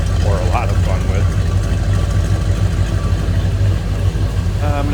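A 1969 Dodge Coronet R/T two-door hardtop with a 440 V8 and mild exhaust idles in a steady, low rumble, with someone speaking over it.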